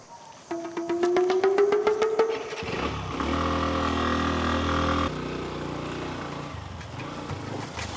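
A motorcycle engine runs close by, first with a rising whine and rapid pulsing, then settling into a steady, loud droning idle that continues to the end, with no clear speech.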